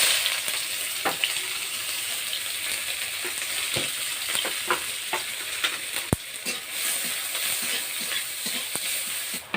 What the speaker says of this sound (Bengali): এবার দেবো সরষের তেল। তেলের মধ্যে দেবো পেঁয়াজ কুচি,